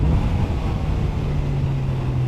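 A QJMotor SRK 921 four-cylinder naked motorcycle, derived from the MV Agusta Brutale 921 and rated at 126 horsepower, droning steadily while ridden, with a sustained low engine hum and heavy wind rush throughout.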